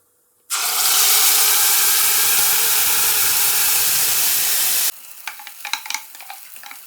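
Ground onion-tomato masala is dropped into hot oil with cumin for rajma masala and erupts into a loud, steady sizzle that cuts off abruptly, leaving softer crackles and stirring.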